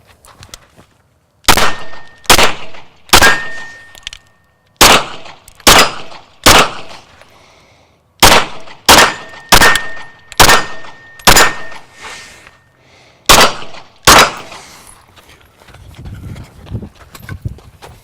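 A full magazine is fired from a pistol fitted with an OLight PL-Mini Valkyrie light, a series of sharp loud shots in uneven clusters with short pauses, followed by faint rustling.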